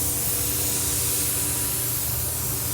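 A paint spray gun lays a second coat on a car panel, a steady, loud hiss that continues unbroken from start to finish, close by and with no talk.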